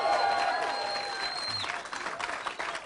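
Crowd at a Ron Paul town hall meeting in Meredith, New Hampshire cheers and applauds steadily, a dense wash of clapping and voices that stays loud throughout.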